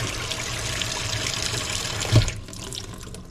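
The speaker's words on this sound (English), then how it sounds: "looks like it's draining fairly well" Water rushes steadily down a kitchen sink drain close up, a continuous splashing pour that cuts off abruptly near the end, leaving only faint trickling.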